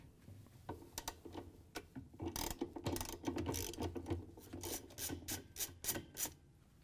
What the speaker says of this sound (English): We're going to use a 7/16" socket with a ratchet and an extension.